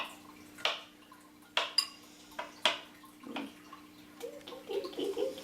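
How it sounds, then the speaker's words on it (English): A knife minces ginger on a cutting board, giving a few sharp, separate chops spaced about a second apart, with faint kitchen clatter toward the end. "We want to mince it as best as we can. You want to cut really little."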